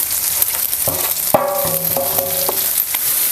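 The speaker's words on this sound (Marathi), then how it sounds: "आता आपण हे सगळं मसाला आपण ह्यामध्ये घालूया कढईमध्ये" Green chili masala is sautéed with eggplant in a kadhai, a loud close sizzle with repeated metallic scraping and ringing strokes of the stirring spoon.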